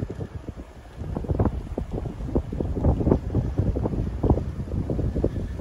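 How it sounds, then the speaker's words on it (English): Stiff headwind buffets the microphone while riding out on a boat, a steady low rumble with gusty bursts that swell and ease throughout, no voices. "riding into a pretty stiff wind"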